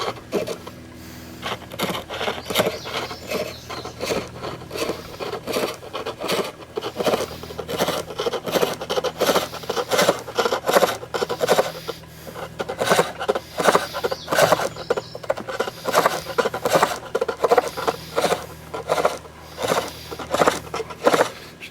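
A turning tool scrapes a wooden bowl spinning on a lathe, a continuous rough rasping with irregular pulses over a steady low motor hum, close and moderately loud throughout.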